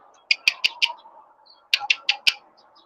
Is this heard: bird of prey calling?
yes